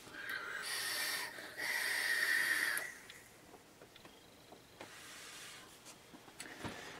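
Vaping on an IJOY Limitless XL RTA atomiser with the airflow fully open: two long, airy hissing draws, then softer, breathy exhales with small clicks, close to the microphone with no talking.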